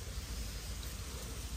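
Steady soft rain hiss, even and continuous with a low rumbling bed, heard alone without talk.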